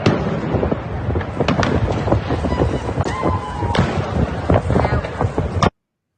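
Fireworks burst at night over a waterfall, with repeated sharp cracks and pops over a steady roar of falling water and crowd noise, loud and continuous until the sound cuts off abruptly.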